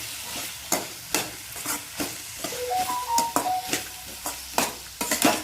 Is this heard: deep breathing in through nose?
no